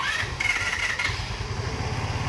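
A Rusi RFi175 motorcycle engine starts and settles into a steady low idle, close by, with a brief higher whine from the starter near the beginning and no talk.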